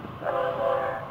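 Florida East Coast freight train horn heard from trackside, a single short, loud blast of about a second with a steady tone.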